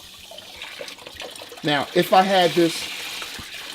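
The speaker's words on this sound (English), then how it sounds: "I'm going to allow the water to flow through" Water flowing out of an opened drain valve on a home heating boiler during a repair, a steady running rush that continues throughout beneath a man's speech.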